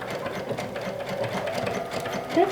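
A sewing machine stitches elastic along a fabric edge, a rapid, steady mechanical chatter running continuously at close range with no talking.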